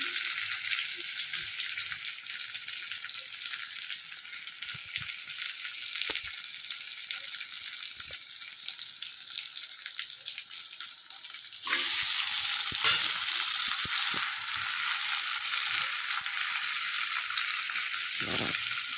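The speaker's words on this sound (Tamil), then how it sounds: "தக்காளி சேர்த்து நல்லா வணங்கிக்கோங்க" Shallots and tomatoes sautéing in a pan, a continuous bright hiss of frying with occasional soft stirring clicks, the sizzle growing louder and fuller partway through.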